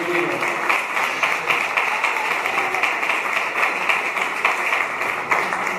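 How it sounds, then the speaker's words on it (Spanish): A church congregation claps for the brothers during a Spanish-language service, with a steady, even patter of many hands that carries on at moderate volume without a break. "darles un aplauso a los hermanos."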